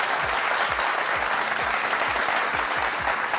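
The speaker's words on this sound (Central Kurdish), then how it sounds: "کات چەپڵەکانتان بۆ من" An audience at a Kurdish quiz and gift show breaks into steady applause, a dense wash of many hands clapping with a regular pulsing beat underneath, close and loud throughout.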